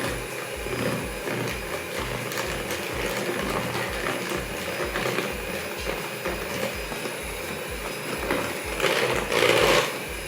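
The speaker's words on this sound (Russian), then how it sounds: "нужно поставить на высокую скорость миксер и очень-очень быстро взбивать" An electric mixer whips butter at high speed in a home kitchen, giving a steady rapid mechanical whir with a regular pulsing rhythm, up close and continuous, swelling briefly louder near the end.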